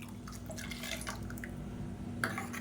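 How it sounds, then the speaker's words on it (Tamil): Water is rinsed from a mixer jar and poured into a pan of simmering kulambu, a steady faint splashing and dripping wash with a brief louder splash near the end. "இப்போ மிக்ஸி அலசிட்டு இந்த தண்ணியை சேர்த்துக்கலாம்."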